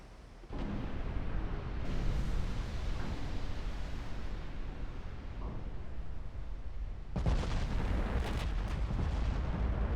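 Secondary guns aboard a warship firing at heavy cruisers in a 1946-era naval battle game, a dense roll of booming artillery reports that swells again near the end, loud and continuous with no talk.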